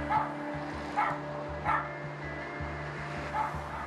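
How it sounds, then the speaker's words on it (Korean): A dog shut inside a locked shop lets out about five evenly spaced barks, moderately loud and near, over a low hum and faint background music. "인기척을 느끼고 자리에서 일어나 짖기 시작하는 녀석."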